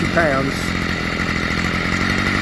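A Stihl FS45 petrol strimmer with a new carburettor, air filter and spark plug runs steadily nearby, its buzzing two-stroke engine note loud and constant, with a brief voice over the start.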